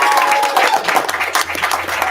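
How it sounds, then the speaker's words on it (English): A room full of people at a Snowline school district board meeting claps loudly for a student, a dense burst of applause that holds steady for the whole stretch. "So first, we're going to give Ariana a big round of applause here"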